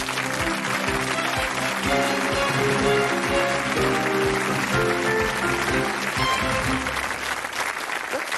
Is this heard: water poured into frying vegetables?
no